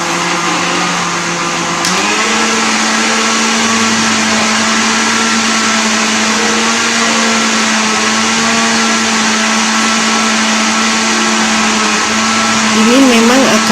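A kitchen blender runs fast, grinding green grass jelly (cincau) leaves into a frothy pulp, giving a loud, steady motor whir with a pitch shift near the start and another toward the end, with no other sound over it.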